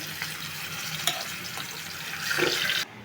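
Fish dropped into hot oil in a wok gives a continuous close sizzle with a louder watery crackling surge near the end before it cuts off; no speech.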